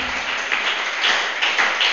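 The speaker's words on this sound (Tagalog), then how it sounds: "Muli, masigabong palakpak ibigay natin." A live audience at a Filipino church gathering applauds, a dense, even wash of clapping from many hands that holds steady for a couple of seconds with no voices over it.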